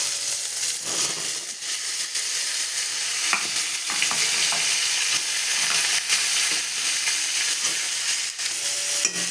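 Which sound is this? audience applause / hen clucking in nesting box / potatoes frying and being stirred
potatoes frying and being stirred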